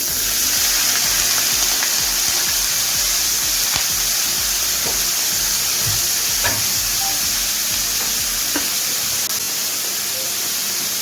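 Chopped banana stem goes into hot oil tempered with mustard seeds and whole spices, producing a steady, loud, close sizzle with scattered crackles and pops throughout, and no talking.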